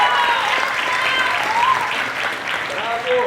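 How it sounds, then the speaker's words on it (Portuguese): A crowd at an event claps steadily and loudly throughout, with a few voices and cheers rising over the dense applause. "dá uma salva de palmas para o Ellerson"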